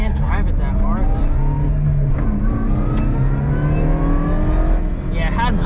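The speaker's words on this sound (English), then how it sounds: "shifting gears at like 5 and it redlines at 9." A Subaru Vivio RX-R engine revs and rises in pitch through gear shifts, loud and close throughout, with people talking over it.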